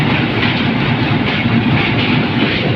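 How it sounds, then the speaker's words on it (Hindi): A Pakistan Railways passenger train approaching a junction station rumbles loudly and steadily, with a dense, continuous roar of wheels on track heard from on board. "अभी हमारी ट्रेन अप्रोच बना रही है जी जंक्शन रेलवे स्टेशन के ऊपर।"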